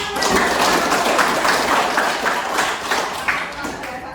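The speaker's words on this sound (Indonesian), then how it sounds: "Tepuk tangan." Applause in a university lecture room for a student presentation, a dense patter of hand claps sustained for about four seconds at close range with some murmured voices underneath.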